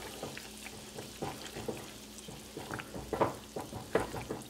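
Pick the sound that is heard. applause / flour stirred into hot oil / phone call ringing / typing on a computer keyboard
flour stirred into hot oil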